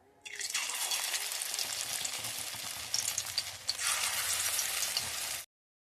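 Spinach pakoras sizzle steadily in hot oil, a dense close crackling hiss that runs unbroken for about five seconds, briefly dipping once midway, with no one talking.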